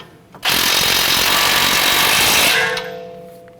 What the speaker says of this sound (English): Let's go ahead and tighten down this nut.